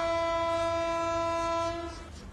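A loud, sustained train horn blasts at a station platform in Mongolia as a train departs, holding a steady tone over a low rumble before fading near the end.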